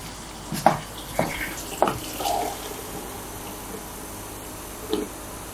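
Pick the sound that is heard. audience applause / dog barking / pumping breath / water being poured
water being poured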